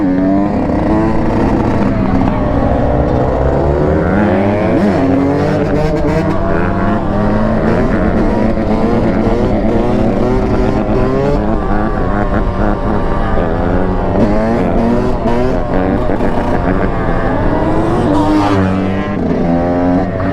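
Cars race past in a busy parking lot, producing a loud, continuous engine roar with rising and falling revs for the full stretch, with voices mixed in.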